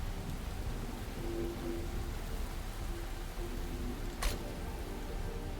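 Steady rain in the video game Enshrouded patters in a continuous wash of noise, with faint low tones beneath and a brief sharp crack near the end.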